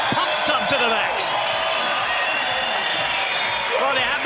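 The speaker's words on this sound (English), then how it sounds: "they have the crowd noise to go with it" A pumped-up crowd at a beach volleyball semifinal roars and cheers steadily, with dense broadband applause and shouts throughout and a few sharper claps or bounces near the start.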